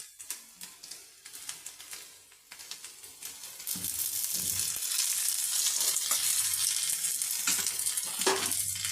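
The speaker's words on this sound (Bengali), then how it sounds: "এইভাবে আমি ভেজে নেব যে আলু ভাজার মধ্যে এক চামচ আমি ঘি দিয়ে দেবো" Potatoes fry in ghee in a pan, starting with scattered crackles and stirring clicks and then swelling into a steady, loud sizzle with occasional pops and scrapes.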